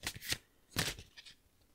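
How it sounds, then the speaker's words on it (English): Cards shuffled from a large deck: a few quick riffling bursts close by, the first two brisk and a longer one after a pause, then lighter flutters fading out, with no talk over them. "shuffle them up"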